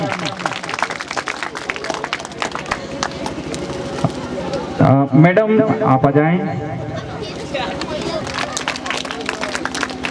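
Steady crowd applause at a school award ceremony in Sausar, Chhindwara, with someone briefly speaking over the clapping midway before it carries on.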